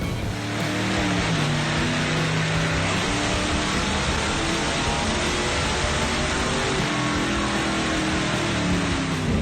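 A 1978 Oldsmobile Delta 88 with a 350 engine, strapped down in a dyno bay, runs with a steady, loud, droning roar that holds nearly level throughout, with no talking.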